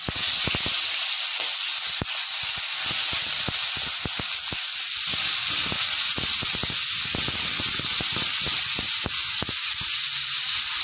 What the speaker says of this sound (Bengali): এবার দিয়ে দেবো আমি পেঁয়াজ কুচি।